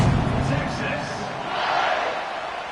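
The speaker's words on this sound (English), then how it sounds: "this crowd is buzzing after that last score" Stadium crowd buzzing steadily in EA College Football 26 during a Texas A&M at Texas game, a dense continuous roar that swells slightly midway, heard alone without clear speech.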